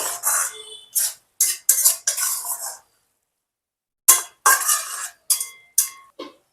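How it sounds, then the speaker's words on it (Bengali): A spoon stirs cabbage curry with chopped coriander leaves in a pan, producing close, loud bursts of scraping and clinking in short groups, separated by a silent pause of about a second. "আবার একটু নাড়িয়ে নেব"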